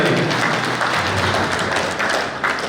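Sustained applause from a crowd at a Shahkot Lions sports event honoring sponsors, steady dense clapping throughout, loud and close with no break.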